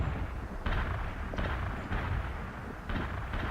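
Artillery shells fired in the war game World in Conflict, a steady rumble of distant booms and blasts with several heavier impacts landing every second or so, dense and continuous with no voices.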